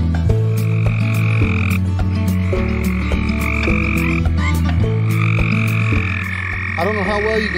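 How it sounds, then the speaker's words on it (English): Many frogs croak by a creek in a loud, dense chorus, with steady overlapping calls and rhythmic pulses that fill the whole stretch without pause. "in the background, you can hear all these frogs"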